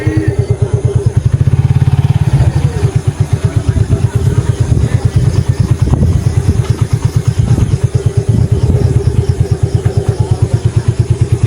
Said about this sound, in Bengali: সব বাইক তো ভিতরে ঢুকে ফেলছে,